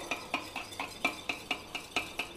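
Whisk or spoon beating two cups of homemade, slightly sour curd in a bowl, a steady rhythm of about ten sharp clicking strokes against the bowl, close and clear with no talk.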